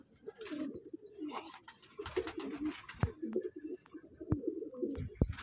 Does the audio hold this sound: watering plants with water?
no